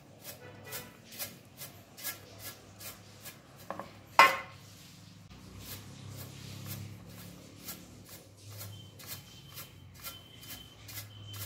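Roasted papad masala being winnowed in a basket at home, a steady series of soft rhythmic shuffling taps roughly twice a second, close and fairly quiet, with one sharper knock midway and a low hum beneath.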